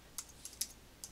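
Several light clicks of a computer keyboard being typed on, four or five sharp, quiet taps spaced unevenly over about a second, with no one speaking.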